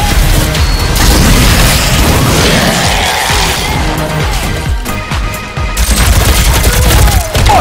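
Loud, dense video-game gunfire in Doom multiplayer, a near-continuous barrage of booming shots and crashing impacts filling the whole stretch with few pauses.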